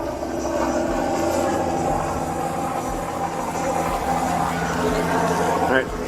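A continuous low engine drone with a rhythmic thumping pulse from a helicopter tracking a motorcycle police chase overhead, steady and fairly loud throughout.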